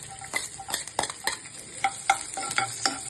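Chopped garlic and cumin sizzle steadily in a pan while a spoon stirs, scraping and clinking against the metal in irregular, close taps over continuous frying crackle.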